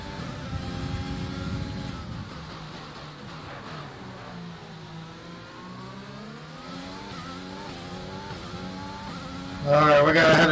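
Race car in a Belgium career-mode racing game accelerating back up to speed, engine note rising in steady stepped harmonics with a louder burst near the end, under continuous talk.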